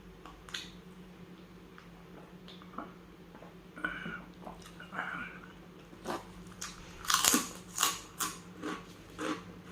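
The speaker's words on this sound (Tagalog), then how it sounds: "First time ko pong kumain ng sisig tuna." Spicy sisig tuna being bitten and chewed up close, with a string of crisp crunching bites that come louder and faster toward the end, over a quiet room with no talking.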